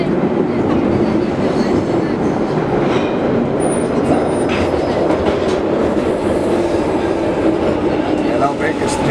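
A metro train riding along, with a steady loud rumble and clattering wheels heard from inside the carriage, plus faint squeals throughout.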